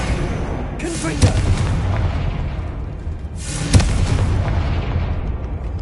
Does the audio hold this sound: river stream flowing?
no